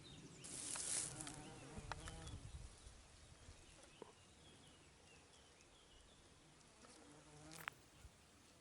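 Bees and other insects buzzing around foxglove flowers outdoors on a homestead in Portugal, a close buzzing drone that swells and fades as insects pass, with faint birdsong and a few small ticks in the quiet background.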